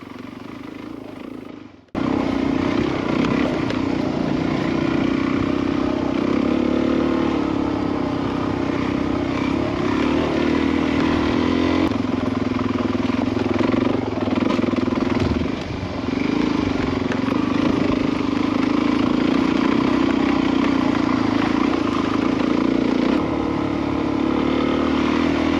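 A motorcycle engine runs steadily and loud for most of the stretch after a brief quiet start, with a droning hum that holds even, out on the desert roads of Big Bend National Park in Texas.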